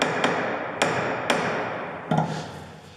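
A hammer tapping a copper drift against the intermediate drive shaft bearing of a right-hand-drive Citroen C15, four sharp metallic knocks spaced unevenly in a quiet workshop, the last one heavier.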